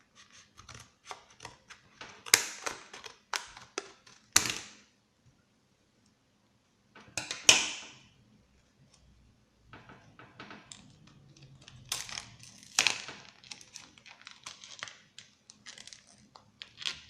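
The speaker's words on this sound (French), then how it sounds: "Nous allons donc maintenant déballer la clé." Unboxing a Verbatim Pinstripe 64 GB USB flash drive: close crinkling and snapping of plastic packaging in irregular bursts, with quiet pauses between, and no speech.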